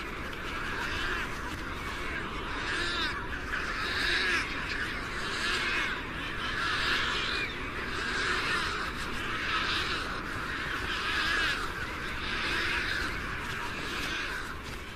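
A large coastal pelican colony feeds amid other seabirds, a dense, continuous din of overlapping squawks and calls with surf-like roar beneath, steady and loud throughout.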